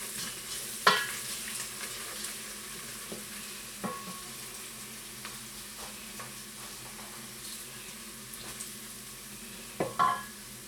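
Onions frying gently in oil over low heat in a pan for lentil dal, giving a soft continuous sizzle with occasional spoon taps and stirring scrapes, close and fairly quiet, no talking.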